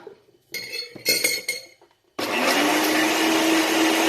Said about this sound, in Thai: จากนั้นนะครับเราก็ปิดฝาแล้วก็กดปั่นครับ